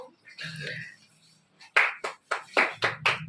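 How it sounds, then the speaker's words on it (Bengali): Voices murmur briefly, then a quick run of about six sharp hand claps follows in a loose, uneven rhythm, close by, at a child's birthday celebration. "হাততালি দাও।"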